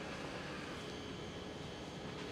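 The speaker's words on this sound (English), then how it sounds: "There goes the Etihad Cargo." An Etihad Cargo Boeing 777 takes off at Amsterdam Schiphol airport, a distant, broad, continuous jet roar that holds steady and fairly faint throughout.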